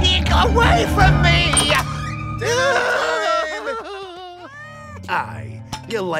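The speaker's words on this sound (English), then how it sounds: "Cat!" A cartoon cat in the animated Peter Rabbit series meows in several drawn-out, wavering cries, mixed in with excited character voices and busy background sound.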